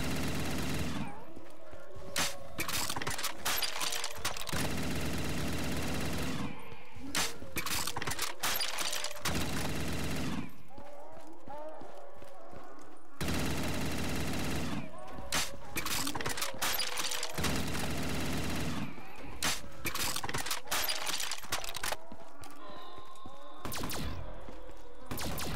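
Guns fire in Black Ops 3 custom zombies in repeated bursts of rapid shots, loud and dense, separated by short pauses filled with game sounds and scattered impacts.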